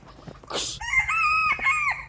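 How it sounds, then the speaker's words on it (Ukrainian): Roosters crow and chickens cluck in a farmyard coop, a loud close crow rising after a burst of rustling and scattered clucks, with no talking over it. "Диви, диви, диви на цих вредних півнів"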